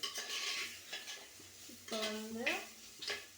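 A spoon stirs a potato and capsicum stir-fry in a pan, giving a few close scraping clinks over a faint sizzle, with a short spoken voice partway through.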